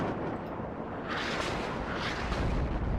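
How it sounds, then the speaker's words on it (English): Artillery shells land in the WARNO real-time strategy war game, a dense rumbling barrage of overlapping explosions filling the whole stretch, heavy and continuous with no voice over it. "But look at that artillery coming in."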